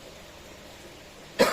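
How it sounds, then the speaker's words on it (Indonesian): A single short cough bursts out near the end after a stretch of quiet room tone, close and fairly loud, said to come from a presenter reviewing jumbo koi fish. "Maaf bosku ya, batuk-batuk."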